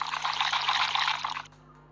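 Orange juice pours into a glass in a panda holiday video game, a bright steady liquid stream lasting about a second and a half before stopping abruptly, over faint background music.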